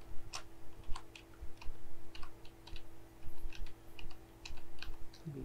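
Typing on a computer keyboard in Microsoft Word, a steady run of quiet close clicks at an uneven rhythm, with no talk over it.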